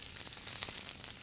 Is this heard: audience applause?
no